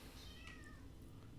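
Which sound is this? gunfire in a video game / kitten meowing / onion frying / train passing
kitten meowing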